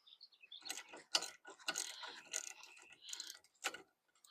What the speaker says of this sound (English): I'm going to go ahead and grab my socket so we can remove that nut